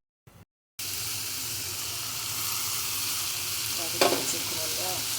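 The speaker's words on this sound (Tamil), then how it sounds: "இதுக்கு வந்து கொஞ்சம் உப்பு போட்டு கலரி வச்சு வதங்கட்டும்" Tomatoes seasoned with salt sauté in a hot pan, giving a steady close sizzle and crackle that runs on after a brief clatter, with a louder spitting burst near the end.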